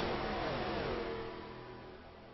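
A race car engine revs at Daytona, a loud, continuous mid-pitched roar close by that gradually fades as the car moves away, with no voices.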